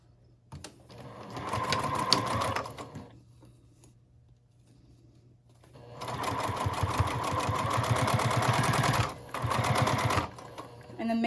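Sewing machine stitching fabric for a small ID wallet made to fit a Devon pouch, running in two steady bursts of rapid mechanical whirring with a short pause between, close and fairly loud.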